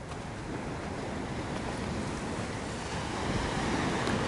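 Ocean surf washes steadily onto Hollywood Beach in Miami, Florida, a continuous broad rush of breaking waves mixed with wind buffeting the microphone, with no voices.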